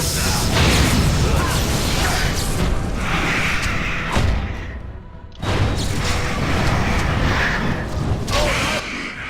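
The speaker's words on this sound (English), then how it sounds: "I'm gonna go ahead and spray these guys with lightning." Lightning spell being cast at enemies during Dragon Age Origins combat: dense, continuous crackling and bursting effects with thumps and crashes, loud throughout, briefly dropping away near the middle before resuming.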